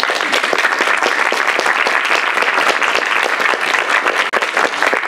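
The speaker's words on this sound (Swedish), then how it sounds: "Ja, en applåd." Dense, steady applause from an audience welcoming a guest onto a panel at a public debate, loud and continuous throughout without pause.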